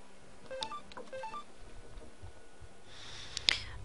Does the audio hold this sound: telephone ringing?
yes